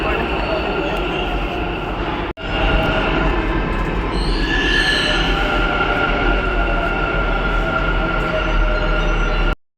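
Namma Metro train at a Bangalore station, a steady loud rumble of rolling carriages with a brief high wheel squeal, heard close from the platform and continuing without a break.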